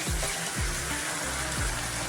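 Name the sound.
water being poured into cooking jackfruit seeds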